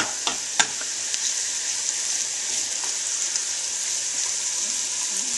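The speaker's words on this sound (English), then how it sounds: "I've added the onions and garlic to the pan, and I'm going to saute these a little bit" Onions and garlic sauté in a pan with a steady, close frying sizzle that hisses continuously throughout, with a couple of small clicks near the start and no talking.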